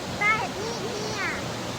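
A village waterfall roars as a constant broadband rush, steady and enveloping, while someone talks over it.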